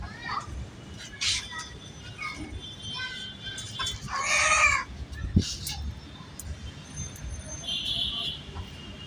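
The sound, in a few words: rooster clucking on rooftop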